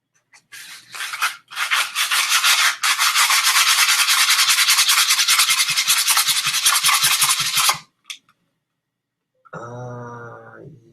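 Medium grit sandpaper rubbing in a long, steady rasping run of fast back-and-forth strokes, close and loud, stopping abruptly near the end, followed by a brief unrelated burst of sound.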